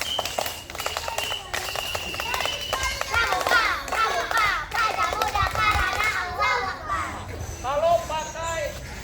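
Children at a one-day scout camp perform the rhythmic scout clap twice, quick patterned hand claps mixed with lively children's voices, shouts and chanting throughout.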